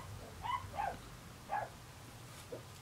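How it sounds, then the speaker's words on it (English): Pembroke Welsh Corgi puppies barking from downstairs, a few faint, distant yips and barks spaced over a few seconds against a low background hum. "We got some puppies downstairs barking."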